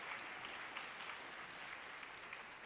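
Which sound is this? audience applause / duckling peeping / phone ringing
audience applause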